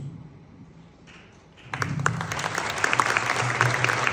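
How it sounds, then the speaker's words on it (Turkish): At a November 2024 tribute concert, a quiet room with a low hum suddenly breaks into audience applause partway through, and the clapping builds and stays steady to the end. "Hakikaten o büyük alkış hak ediyor aslında."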